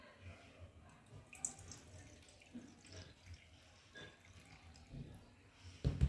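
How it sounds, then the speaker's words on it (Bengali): Rice is washed in water, with faint sloshing, swishing and light drips close by at low volume and a sharper splash at the end. "চালটাকে এখন ভালো করে জল দিয়ে ধুয়ে নেব।"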